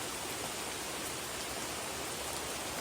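Heavy rain pours steadily outdoors during a trek, a dense, loud, unbroken hiss of drops with no pauses or voices.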